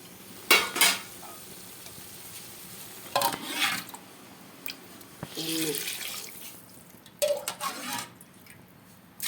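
Water splashes and pours in several short bursts into a pot, measured out for prawn biryani, among kitchen clatter, with brief gaps of quieter room sound between them.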